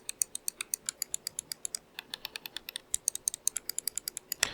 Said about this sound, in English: When it comes to clicks, these are golden micro IP54 switches.